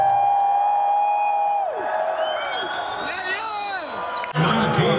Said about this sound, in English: Fans, let's join in a round of applause for Daryl the Mad Butter